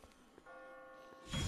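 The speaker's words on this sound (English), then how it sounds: "I just got spooked by those bells" Bells in The Walking Dead chime briefly and faintly, a short tonal ring heard at a distance before a louder noisy rush breaks in at the end.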